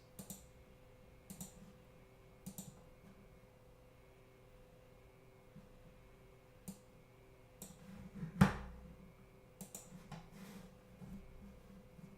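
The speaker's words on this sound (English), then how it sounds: "is your keyboard smoking?" Sparse, irregular keystrokes on a computer keyboard during a live futures day-trading session, faint clicks spaced across the stretch with one sharper, louder tap near the end, over a low steady hum and no talk.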